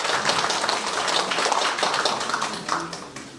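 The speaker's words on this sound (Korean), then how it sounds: "환영과 감사의 큰 박수 부탁드립니다" An audience at a county residents' talk concert in Samseong-myeon, Eumseong County, claps to welcome the county governor. The applause is dense, steady and close, and lasts a few seconds.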